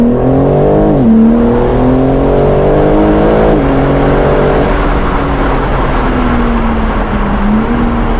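A BMW M car's young engine revving hard under throttle, loud and close, rising in pitch in surges before settling into a steady droning hum.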